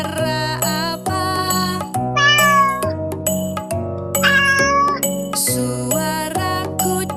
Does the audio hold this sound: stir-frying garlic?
no